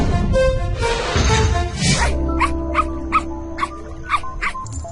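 A cartoon dog gives a series of short, high whimpers and yips in quick succession, following a louder rustling burst at the start.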